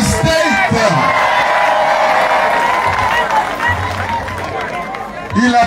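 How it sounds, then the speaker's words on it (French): A crowd at a political rally in Bitam, Gabon, cheers and shouts loudly and steadily, with whoops and applause in a dense wall of noise, while a voice speaks over it near the end. "On peut l'applaudir, on peut le saluer."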